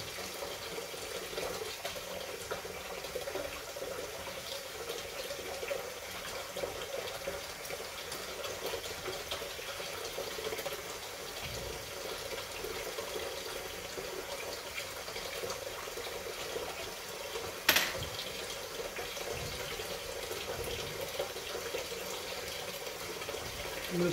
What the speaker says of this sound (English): just keep on rinsing with hot water.